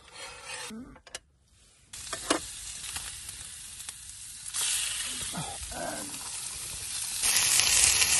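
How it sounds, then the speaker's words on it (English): Steady hissing sizzle of food frying in a hot pan at a campsite, with scraping and stirring sounds, growing louder and fuller toward the end. "Heat the frying pan up now."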